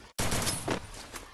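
Rapid burst of gunfire in a shooting video game, a loud dense volley lasting about a second after a brief silence, with no voices heard.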